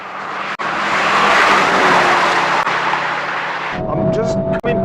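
A Honda Civic Type R or Toyota GR Corolla races hard, its engine roaring loud and steady under a constant rush of road and wind noise, then a brief dip and a quick shift as the note changes near the end.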